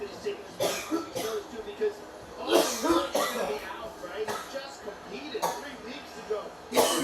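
Several sharp coughs and throat clears burst out at irregular intervals over a busy background of voices and room noise.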